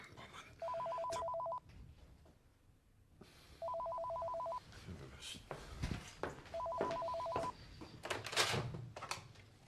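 An office telephone rings three times in steady electronic bursts, loud and close, with someone talking in the pauses and over the rings.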